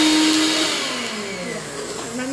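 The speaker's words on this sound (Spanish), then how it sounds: "si tienes licuadora como yo lo muelo, mira ya casi está" A household blender grinds granola ingredients in a loud, continuous whir, its pitch shifting slightly as the mixture breaks down over a couple of seconds.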